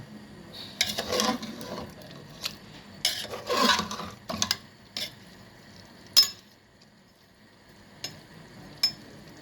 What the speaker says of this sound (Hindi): इसको एहतियात के साथ मिक्स कर देंगे